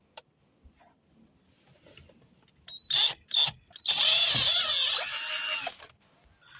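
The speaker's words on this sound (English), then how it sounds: "let's loosen the screws here" A power tool loosens screws inside a BMW E60 530i, giving a few short whirring, ratcheting bursts close by after a quiet start, with no speech.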